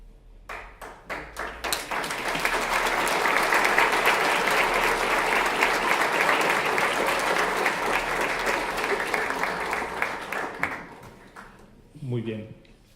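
A book launch audience in Asunción gives the speakers warm applause: scattered claps swell into sustained, dense clapping that holds for several seconds, then fades, and a voice speaks briefly at the end.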